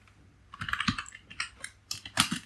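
Computer keyboard typing during Python coding, a quick burst of clicky keystrokes in irregular clusters, close and clear with no talk over it.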